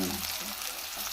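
Onion and green chilli dropped into hot oil in a home kitchen pan give a steady, dense sizzle that hisses continuously and close up, with no voices over it.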